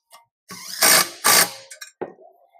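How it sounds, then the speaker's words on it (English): An impact wrench runs two short, loud, close bursts to snug 11 mm bolts holding a bracket to a Fass fuel pump, with a few small metallic clicks and handling noises after, no talk. "Take your impact, get them nice and snug."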